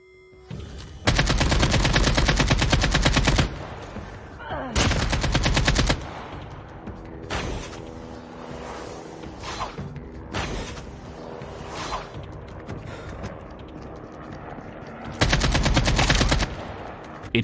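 Automatic gunfire in the mobile shooter Call of Duty Mobile, battle royale mode, coming in several long, loud sustained bursts separated by short lulls of quieter in-game ambience.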